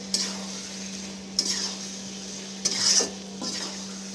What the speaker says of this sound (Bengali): এটাকে ভালো করে কষিয়ে নিতে হবে তেল না ছাড়া অবধি